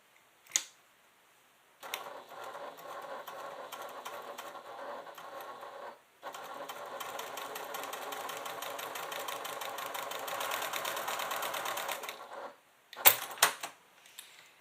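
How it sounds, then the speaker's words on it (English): A sewing machine stitches through a quilted leather clutch in two long bursts of rapid, even needle chatter separated by a short pause, close and loud, with brief clicks and handling noises before and after. "So I'm just going to stick this on the machine and go ahead and stitch."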